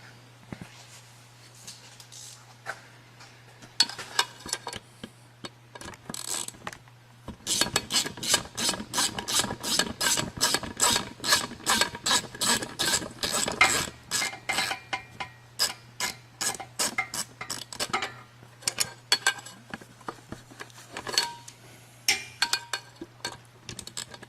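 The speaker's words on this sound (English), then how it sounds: "You need to remove those two screws using a 10mm socket." A hand ratchet fitted with a 10mm socket backs out two screws on a Barton Hybrid bushing install, giving long runs of rapid, close metallic clicks in bursts with short pauses between, over a steady low hum.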